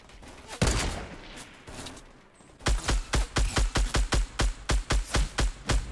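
Rapid bursts of gunfire from the video game Fortnite during a 50 versus 50 battle royale fight: a loud shot and scattered pops early, then a fast, evenly spaced string of sharp, punchy shots, close and dominant.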